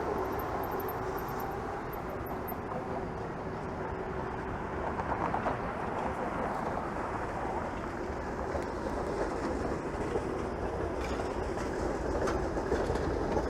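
A Toronto streetcar passes close by on a downtown street, giving a loud, continuous rumble and rattle of wheels on track that holds steady for the whole stretch.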